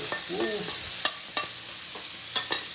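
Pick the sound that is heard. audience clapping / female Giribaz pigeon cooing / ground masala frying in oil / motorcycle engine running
ground masala frying in oil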